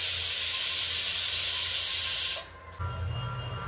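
A new pressure cooker on a home kitchen stove lets out a loud, steady steam hiss and whistle for over two seconds, then cuts off abruptly before a brief lower rumble resumes.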